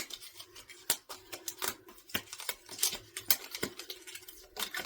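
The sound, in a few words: playing cards being shuffled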